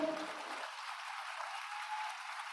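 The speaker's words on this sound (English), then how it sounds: "Give Miss PG a big round of applause, people." Faint audience applause at the close of a morning session of an online global studies program, a soft, even patter of clapping lasting a couple of seconds.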